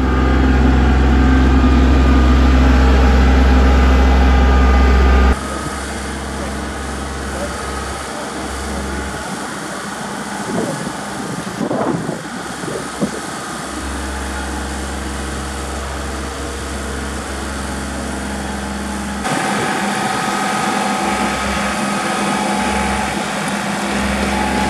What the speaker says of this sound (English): you can hear the throaty sound of Walter's old husky back there in the back